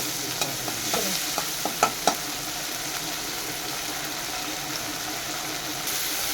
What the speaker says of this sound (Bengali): এতে মাছটাকে সুন্দরভাবে ভেজে নেব